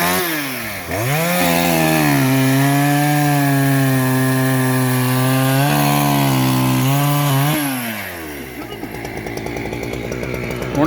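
A chainsaw with a diamond-toothed bar and a dulled chain roars loud and close as it cuts through wood, its pitch dipping under load and rising again, then settling into a rougher idle.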